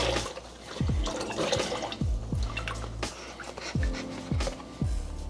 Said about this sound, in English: We're gonna open up this chicken broth. Listen, we wanna go ahead and pour this whole contents in here.